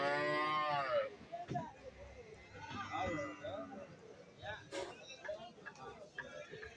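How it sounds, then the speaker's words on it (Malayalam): A cow mooing loudly at a livestock market, one long harmonic call up close at the start, followed by market chatter and people talking nearby, with another faint animal sound later. "ഏകദേശം 1 വയസ്സിന് മുകളിൽ പ്രായം വരുന്ന ഒരു പശുവിനെ വാങ്ങിയിട്ടുണ്ട്."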